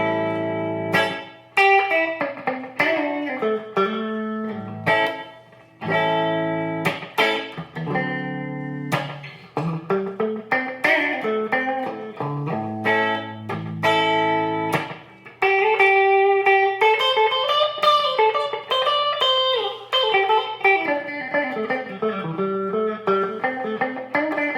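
An electric guitar plays clean through a Fender Mustang GTX100 amp with compression, spring reverb and tape delay, moving from plucked chords into a flowing melodic line with soft echo tails, no voices.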